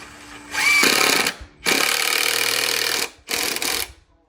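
A screw is driven all the way in with a power driver during a building project, heard as three loud whirring bursts of motor noise, close by with short pauses between them.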